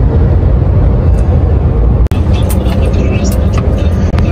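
A truck cruises along the A3 autobahn toward Frankfurt at about 80 km/h, a loud steady cab rumble of engine and road noise with a brief click partway through.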